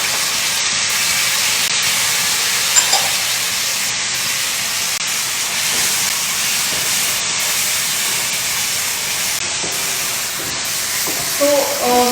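Chopped onions and tomatoes sizzling in a hot pan while cooking chicken cutlet, a loud, steady, close hiss of frying that holds almost unbroken throughout, with a few faint clinks near the end.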